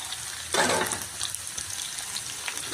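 Capsicum, carrot, beans, cauliflower, butter beans and potatoes for veg kadai frying in a pan, with a loud burst of hissing sizzle as they are tossed and stirred, then a steady softer crackle.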